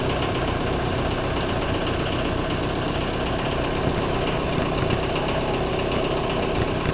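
A boat engine's steady, low idle rumbles continuously throughout, with a constant vibrating drone and no voices.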